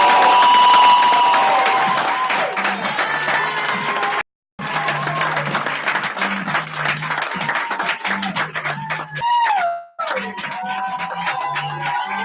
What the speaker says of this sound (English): let's give a huge round of applause for Sheila Bustamante